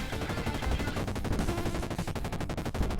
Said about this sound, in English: that rapid fire power up with the Uzi is pretty satisfying